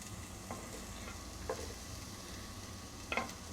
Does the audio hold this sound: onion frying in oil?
yes